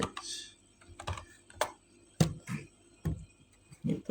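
Irregular clusters of computer keyboard keystrokes, close and fairly quiet, clatter in short bursts with pauses between, as someone types commands on a Linux system.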